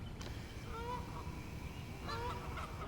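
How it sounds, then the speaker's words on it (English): Geese honk repeatedly at a duck pond in West Newton, Pennsylvania, two clear bursts of calls sounding over steady outdoor background noise. "And there's geese down here."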